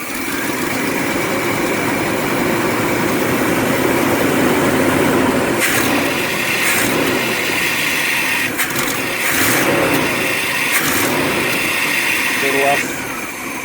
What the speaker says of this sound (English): I have a low idle there.